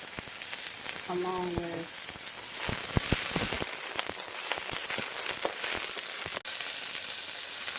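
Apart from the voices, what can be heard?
chanterelle mushrooms sizzling in a pan with cooked red onions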